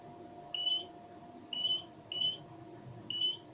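A Mineoro DC2008 metal detector gives four short, high, clean electronic beeps at uneven intervals over a steady low hum, close and moderately loud.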